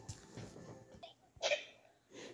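A single sharp sneeze bursts out after some soft breathy sounds, close and brief, followed by a quiet exhale.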